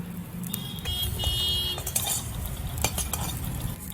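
Salt being stirred into jute greens frying with lentil dumplings in a pan over a low flame, soft scraping and clinking of a utensil against the pan under a faint sizzle, close and steady without voices.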